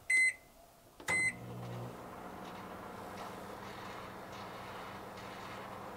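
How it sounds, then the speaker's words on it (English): Microwave oven powered through a 3000W inverter: two loud beeps from button presses, then a steady low hum and whir from the running oven, close and continuous with no talk. "Working good, running my microwave."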